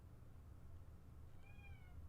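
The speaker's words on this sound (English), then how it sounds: "Gotta let a cat up if you hear Mugen meowing." A house cat named Mugen meowing once, faint and somewhat distant, heard over a quiet low room hum.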